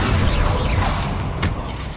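Bombarda explosion spell going off during a Hogwarts Legacy duel, a loud booming blast with a whooshing sweep and rumbling debris, then a second sharp crack, close and continuous with no speech.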